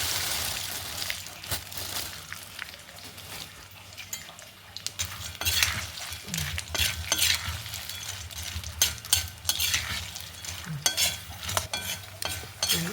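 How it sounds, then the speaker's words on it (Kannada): About half a kilo of peanuts roast and sizzle in ghee in a pan, with a spoon scraping and stirring now and then and occasional metallic clinks, steady and close. "ಇದಕ್ಕೀಗ ಒಂದು ಅರ್ಧ ಕೆಜಿ ಅಪ್ಪಷ್ಟು ನೆಲಕಡಲೆ ಹುರ್ಕೊತ ಇದ್ದೆ"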